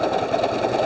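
Close, steady whirring of a sewing machine running a basting stitch on a DIME sticky hoop, its quick needle beat continuous through this brief stretch.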